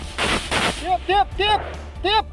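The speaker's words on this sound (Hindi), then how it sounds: "Made in China machine gun को बार बार लोड करते हुए इसने कई राउंड फायरिंग की।" A Chinese-made machine gun fires rounds during fighting between Thailand and Cambodia. Two sharp, loud blasts open the clip, followed by several short tonal cries or shouts.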